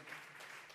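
A church congregation claps together during a Spanish-language sermon, a steady, dense burst of applause filling the room with no pauses.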